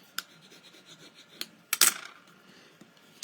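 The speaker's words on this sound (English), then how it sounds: "The secret to the tear and tape, if you want to be able to tear it off easily, is to burnish it" Tape pressed onto paper is burnished flat during a stamping card project, giving a few soft rubbing and scraping strokes with one brief louder scrape, close and quiet.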